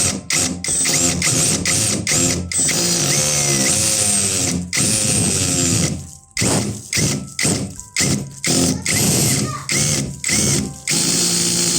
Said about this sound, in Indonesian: Pelan-pelan aja dulu ngebor di awal ya, jangan langsung dihajar.